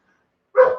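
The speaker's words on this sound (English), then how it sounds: "that was my dog." A pet dog gives a single short, sharp bark indoors, close and fairly loud, after a quiet moment.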